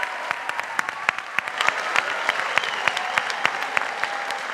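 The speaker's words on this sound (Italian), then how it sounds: "E allora un bel applauso di benvenuto alle emozioni!" An audience claps to welcome performers at a summer youth camp presentation, brisk, sharp individual claps over a continuous bed of applause, fairly close and steady for several seconds.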